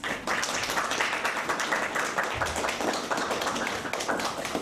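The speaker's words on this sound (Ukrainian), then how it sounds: "Під оплески родичів, друзів та товаришів по службі Сергій з Луганщини та Наталя з Буковини обмінялися обручками." Wedding guests — relatives, friends and service comrades — applaud steadily as a military groom and his bride exchange rings in Chernivtsi, a dense, continuous clapping from a sizable crowd close by.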